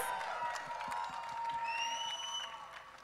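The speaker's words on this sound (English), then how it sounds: "you tell him with a big round of applause and some cheers in the house" A live audience at a Netflix trailer launch applauds and cheers in a short, steady burst of clapping with whoops rising over it, loud and close throughout.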